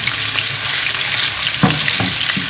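Ginger garlic paste fries in hot oil for a tadka, giving a loud, steady sizzle with occasional spoon stirs and scrapes.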